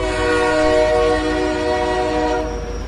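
A train runs with a loud, sustained horn blast held steady over the rumble of moving carriages, close and dominant before easing slightly toward the end.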